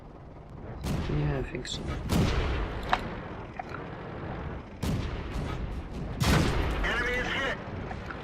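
Tank cannon fire in the World of Tanks video game: several heavy booming shots with long rumbling tails, spaced a second or more apart among engine and battle noise, while a player talks over them.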